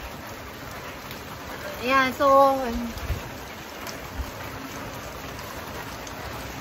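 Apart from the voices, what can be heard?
rain falling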